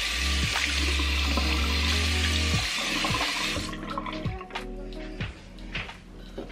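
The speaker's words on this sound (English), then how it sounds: "So I'm going to make my face wet right now." Water runs from a bathroom faucet into a sink in a steady stream, then gives way to handfuls splashed onto a face, with uneven wet slaps and drips close by.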